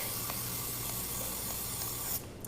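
A pressurized pump oil sprayer mists oil onto a baking pan in one steady, close hiss lasting about two seconds before cutting off abruptly.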